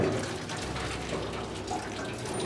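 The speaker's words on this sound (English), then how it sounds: "I'm just gonna go ahead and strain these over here in the sink very carefully so you don't burn yourself." Hot boiled potatoes and their cooking water pour from a pot into a kitchen sink strainer, a loud continuous rushing splash that holds steady and close for the whole stretch.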